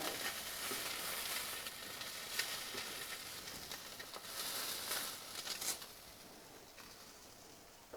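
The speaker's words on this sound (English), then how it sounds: "we're only going to fry this on the skin side" Salmon frying skin side down in a hot pan gives a steady, close sizzle that runs throughout, with a few louder pops and crackles before it quietens near the end.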